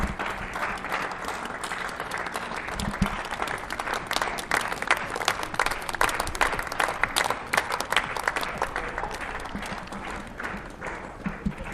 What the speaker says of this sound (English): you can hear the applause he's getting.